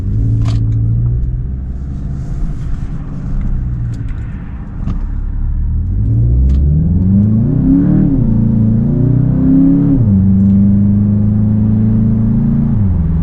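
A 2026 Volkswagen Jetta GLI Autobahn, front-wheel drive, accelerating up a hill, its engine rumbling low then rising through revs with gear changes, loud and close from inside the car, no talking.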